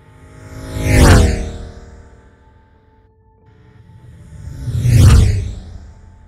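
A Ferrari sweeps past twice with a Doppler movement effect applied at 140 miles per hour, each pass swelling loud to a peak, then falling in pitch and fading.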